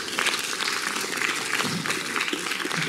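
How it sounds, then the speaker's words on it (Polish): Audience applause at an award ceremony for a nonprofit leader, a dense steady wash of many hands clapping continuously, fairly close and full throughout. "Gratulacje, duże brawa."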